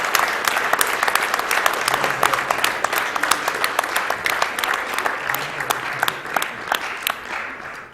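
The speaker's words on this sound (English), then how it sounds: "more round of applause for Combo Blaze and all of our 2D Sonic Block runners." Audience at a Games Done Quick speedrun charity event claps steadily, a dense wash of many hands that fades slightly toward the end, with faint voices underneath.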